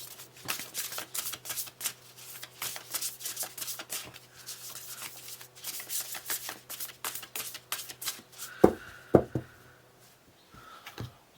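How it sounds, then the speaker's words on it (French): Tarot cards shuffled and laid out during a card reading, a rapid run of close, crisp riffling and flicking taps followed by a few sharper card placements near the end, with no speech. "Je vais mettre une carte supplémentaire."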